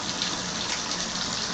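Water pours steadily from the tub faucet spout of a Delta shower, a close, loud, even rushing gush with no talk.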